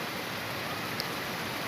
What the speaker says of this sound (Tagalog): Ito yung bagyo palang ulan dito sa Cavite.